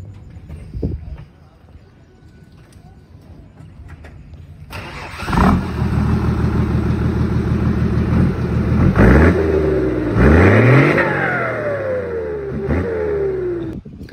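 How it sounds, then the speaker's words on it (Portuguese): A Ford F250 with a 300-horsepower MWM six-cylinder turbo diesel cranks and fires up close by, then settles into a loud rumbling run with several sharp rising and falling revs while people talk in the background. "Dá uma partida lá, só pro pessoal ouvir o barulho e a gente já vai dar um rolê."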